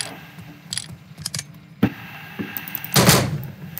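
A Lindsay gun fires in a Wild West video game, with a few sharp, loud reports and mechanical clicks from handling and reloading, ending in one heavier burst near the end. Nobody speaks.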